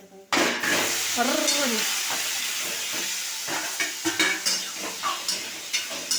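A sharp burst of sizzling as spices hit hot oil, followed by stirring and metallic scraping in the pan, with brief voices in between.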